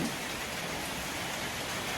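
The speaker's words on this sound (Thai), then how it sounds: "มากับฝนกับลม" Steady rain falls around a house, a dense, even hiss of drops on surfaces that continues without a break, fairly close and with no voices.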